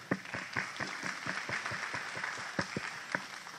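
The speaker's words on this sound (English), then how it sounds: "Round of applause, please." Scattered, uneven clapping from a small audience at a joint city council and planning commission meeting, fairly faint and thin in a room with a steady background hum.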